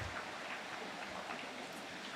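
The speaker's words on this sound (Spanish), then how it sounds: "Es que Dios nos quiso bendecir con la lluvia." Steady rain falling outdoors, a soft even hiss of drops on surfaces with no breaks, fairly faint and unaccompanied by voices.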